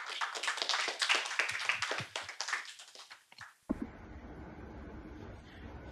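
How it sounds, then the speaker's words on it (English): Audience applause for a poet at a women's poetry event, a few seconds of scattered, moderately loud clapping that stops abruptly, followed by quiet room tone. "Give her a big round of applause."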